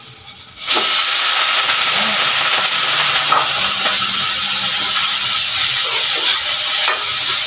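Ground beef sizzles and fries loudly in a hot pan, starting abruptly after a brief quiet moment and then holding a steady, dense hiss with occasional stirring scrapes throughout.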